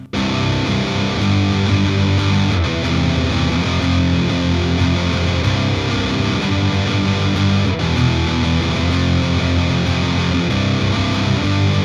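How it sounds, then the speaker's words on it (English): A heavy, distorted electric guitar plays the chorus riff of a song. Thick, sustained chords drive on steadily at full volume with no voices. "the chorus sounds like this"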